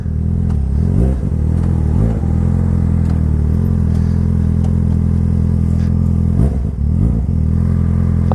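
Motorcycle accelerating while riding, a loud, close engine drone with several quick rising revs and gear-change dips, plus a steady rumble throughout, no talking.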